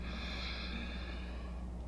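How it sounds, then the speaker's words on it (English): A slow, deep breath during guided meditation, a close, steady airy rush of air drawn in and released without any talking. "10 breaths."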